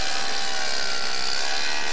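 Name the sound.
ice crushing machine dispensing ice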